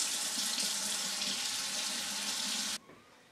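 A tap runs with a steady, hissing rush of water into a sink while wool is dyed with Kool-Aid, continuous and close, then stops abruptly near the end.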